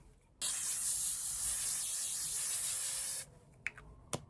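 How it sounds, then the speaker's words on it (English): A single continuous hiss of a fine mist spray runs for about three seconds up close, followed by a few small taps and clicks. "I just realised that I completely forgot to use the second setting spray, so I'm just going to do that now"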